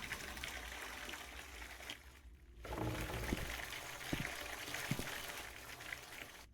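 Flowing water trickles and pours in the horror video game Visage, a faint, steady wash with a brief quiet gap and a few soft taps.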